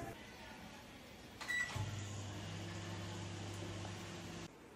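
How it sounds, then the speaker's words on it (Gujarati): A microwave oven starts up on full power to steam idli: a click and door thud, then a steady low hum with a faint whirring fan that runs for a few seconds and cuts off abruptly. "હવે આ ઇડલીને માઇક્રોવેવના ફૂલ પાવર ઉપર 4 મિનિટ માટે સ્ટીમ કરી લઈશું"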